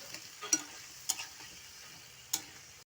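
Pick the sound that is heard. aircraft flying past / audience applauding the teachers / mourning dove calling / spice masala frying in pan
spice masala frying in pan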